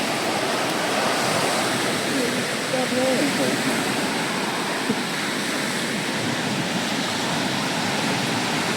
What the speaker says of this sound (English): Look at those nice waves.